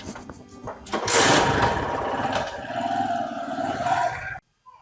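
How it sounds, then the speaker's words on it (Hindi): A motorcycle engine buzzes loudly as it rides past close by on a village road, its revving drone swelling after the first second and holding before cutting off abruptly near the end. "देख लो रे, मोटरसाइकिल पे घूम रही बिरजू की छोरी।"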